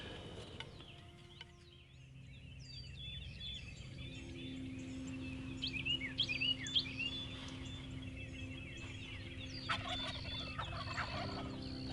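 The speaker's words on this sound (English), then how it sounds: "We've heard some birds gobble this morning, but they seem like they're quite a ways off." Wild turkeys gobble far off in the early morning during a hunt on a cow-calf ranch, faint rattling calls in short bursts over quiet birdsong and soft outdoor ambience.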